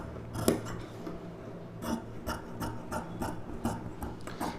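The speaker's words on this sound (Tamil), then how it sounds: "இப்போ இந்த அளவுக்கு அப்படியே கட் பண்ணிக்கலாம்." Scissors snipping through silk saree fabric while cutting out a boat-neck blouse, a series of short crisp cuts at an irregular pace, close and fairly quiet with no talking.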